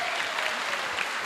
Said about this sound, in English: applause for Stephen and Tony